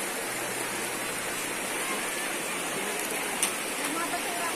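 Water runs steadily over a rocky riverbed at Mananap River in Camarines Norte, a constant broadband rush with no breaks and little else standing out.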